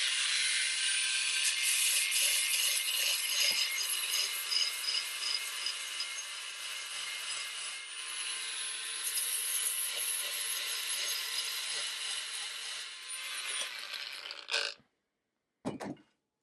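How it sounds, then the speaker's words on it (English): A VERVEWAVE WT8841 cordless belt file sander grinds an edge in a steady, high hissing rasp lasting about fifteen seconds, then cuts out abruptly before a brief final burst. "It's a very narrow belt sander that can do the tasks that you would typically do with a file."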